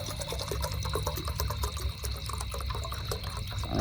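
Water poured from a container into a pot for boiling at a night campsite under a tree, a near continuous splashing trickle with no talk.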